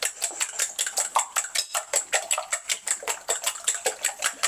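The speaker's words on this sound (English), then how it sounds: "Keep whisking it." Eggs and kefir whisked briskly in a bowl for an omelette, with rapid, evenly spaced metallic clicks and taps of the whisk against the bowl, close and fairly loud, no talking.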